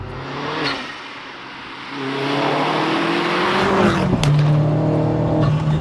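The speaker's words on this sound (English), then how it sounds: "I love that upshift pop. It's brilliant. Even at low RPM." A self-built 310 bhp Vauxhall Astra VXR revs and pulls up through the gears with a crisp exhaust pop on the upshift, the engine note rising loud and near, dipping and climbing again.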